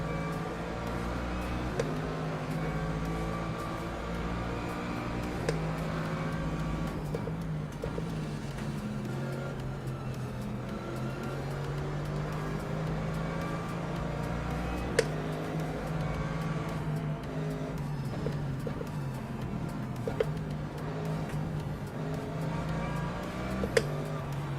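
Race cars in a video game launch at a green-flag start, a steady dense engine roar holding throughout with layered revving and occasional sharp clicks, loud and continuous with no talk over it.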